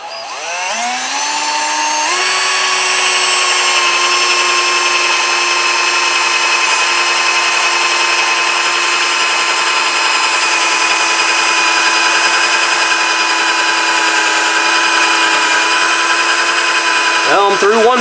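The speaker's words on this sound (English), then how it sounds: "I better crank this thing up to drilling mode. Otherwise, it's just going to click and stop." A cordless drill set to drilling mode drives a screw into a wooden board for a garden raised bed. The motor whines steadily and loudly for about fifteen seconds, rising in pitch as it spins up, then winds down at the end.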